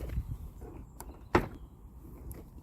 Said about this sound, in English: you open the doors like this